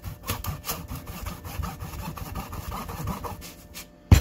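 A kitchen knife saws back and forth through the bottom of a raw acorn squash, a close, rough rasping cut of repeated strokes that ends with a sharp thud as the blade goes through.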